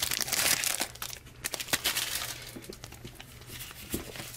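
Foil wrapper of a Yu-Gi-Oh card pack being crinkled and torn open, with close, irregular crackling bursts and a few sharp crisp snaps over several seconds.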